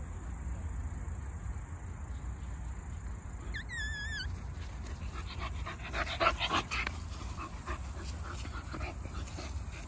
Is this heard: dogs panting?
yes